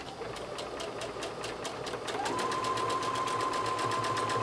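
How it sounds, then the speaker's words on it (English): Domestic sewing machine straight stitching a 5/8 inch side seam on a classic jumper, a steady rapid needle clatter that picks up speed partway through, with a rising motor whine as the stitching continues. "Now we'll take that to the sewing machine and we're going to stitch, straight stitch, 5/8 inch"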